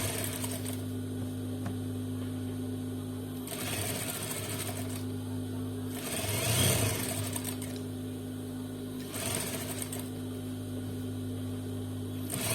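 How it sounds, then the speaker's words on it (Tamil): A sewing machine stitches a folded hem on an Afghani salwar, its steady motor whirr and needle rattle running near and continuous, with short bursts of faster stitching between pauses. "ஸோ நான் இப்போ ஸ்டிச் பண்றேன்."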